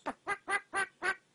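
A pet bird imitating a chicken with five evenly spaced clucking calls, close and clear, with no one talking over them.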